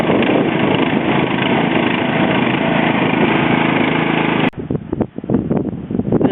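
A lawn mower engine runs loud and steady close by on a cold day, then the sound cuts to rougher, uneven sputtering and rumbling for the last couple of seconds.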